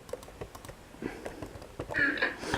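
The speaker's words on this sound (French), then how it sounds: "on entend mes clics de souris et on entend mes bruits de clavier" Keyboard typing and mouse clicks while playing a computer game, a quick irregular patter of keys close to the microphone that grows busier and louder toward the end.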